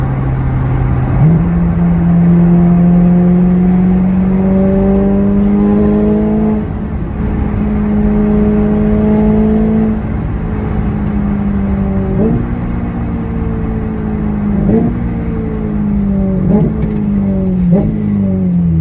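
A car drives along a bumpy road, its steady engine hum and tire roar running throughout, with the pitch rising as it speeds up and a few jolts and thumps as it rolls over rough patches.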